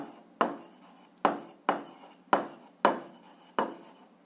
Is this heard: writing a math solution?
yes